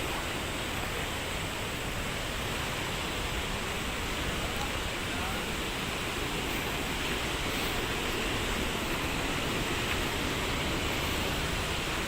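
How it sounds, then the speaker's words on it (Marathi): Sea waves at high tide on a beach form a loud, unbroken roar of surf that holds steady throughout, with no distinct breaks standing out. "समुद्र म्हणजे समुद्र"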